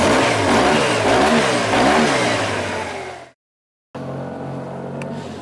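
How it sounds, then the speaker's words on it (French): A 2013 Yamaha T-MAX 530 scooter engine revs loudly, its pitch rising and falling, then cuts out abruptly; after a short silence it resumes at a steady idle. "on va mettre le contact et écouter le bruit du moteur"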